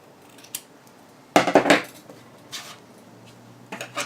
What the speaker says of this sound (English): Trim the excess seam allowance.